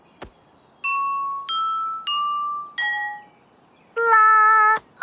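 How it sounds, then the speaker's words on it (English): A gong struck as the last note of a song, coming after a short run of four bright chime notes. It ends in a single rich, ringing stroke that sustains for nearly a second, alone and close. "We were looking for the right-sized gong to end my song."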